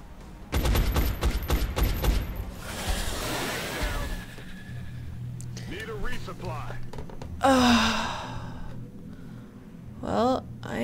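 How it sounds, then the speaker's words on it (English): A rocket fired in XCOM: Enemy Unknown, with a rapid burst of loud shots up front, then a rushing roar and scattered game effects and vocal gasps that fade and return in bursts. "Should I fire a rocket at him?"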